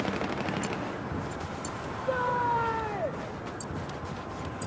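Rapid automatic gunfire in the Battlefield 4 video game rattles on throughout as a dense, steady crackle, with a sliding whistle-like tone passing midway.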